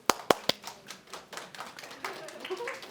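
Audience at a maternity class giving a brief round of clapping: three sharp, close claps open it, followed by scattered softer claps under talking voices.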